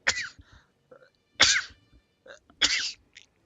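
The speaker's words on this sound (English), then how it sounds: "Oh god, I have to sneeze." Three forceful sneezes burst out close up at even intervals, each with a sharp voiced peak, separated by brief quiet breaths and small throat sounds.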